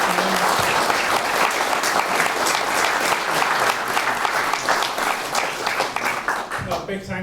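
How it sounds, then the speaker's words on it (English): Sustained audience applause for the judges at a championship event, dense and steady clapping from a large crowd filling the whole stretch before tapering slightly at the end, with some voices mixed in. "a big round of applause to our"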